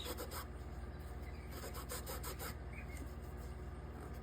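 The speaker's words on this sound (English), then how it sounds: "I'm taking rubbing alcohol and cleaning this edge" A cloth soaked in rubbing alcohol is rubbed along the edge of a stained glass piece for a lamp shade, making quiet, rhythmic rubbing strokes close by, with no talking.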